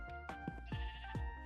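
Sheep in Minecraft bleat in a hardcore survival game, several short wavering cries coming close together in quick succession, near and clear over a steady background game tone.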